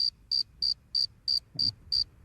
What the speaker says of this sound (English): Yeah, let's just play the crickets.